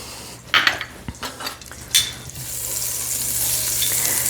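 Butter melts in a pan of hot oil before onions are sautéed: a few sharp clinks and scrapes of utensils come first, then a bright, continuous sizzle takes over and keeps rising.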